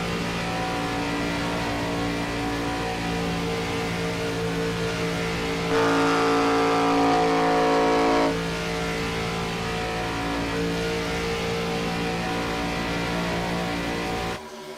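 IROC race cars roar around the Atlanta oval in a continuous loud engine drone, swelling briefly as the pack passes close by, with no talking over it.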